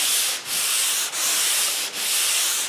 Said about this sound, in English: So what we're going to try and do is just gradually sand all that lot down.